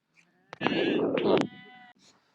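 A sheep gives a loud, close bleat lasting about a second during a shearing day in the Ziddi mountains, followed by a fainter trailing call.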